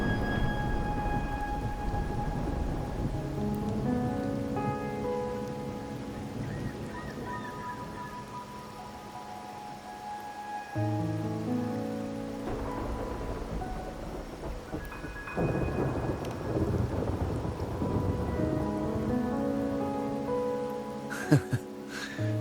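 Rain falls steadily in the video game Wuthering Waves while low thunder rumbles beneath it and a sustained musical score plays throughout.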